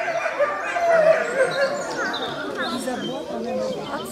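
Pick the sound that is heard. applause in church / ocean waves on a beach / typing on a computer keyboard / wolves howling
wolves howling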